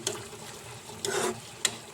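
Tamarind, turmeric and salt being stirred together in a pan for egg curry, a few brief scraping strokes with a faint sizzle beneath, close and fairly quiet with no voices.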